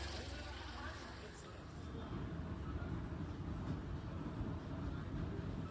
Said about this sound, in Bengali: সুপার ট্রেনটা আসছে, এই ট্রেনে উঠে সোজা একদম হাওড়া।